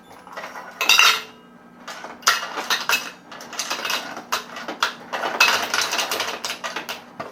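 Ice cubes from a Breville 876 espresso machine's dispenser clatter and rattle into a glass in a steady stream of clinking bursts, close and fairly loud, with no talking.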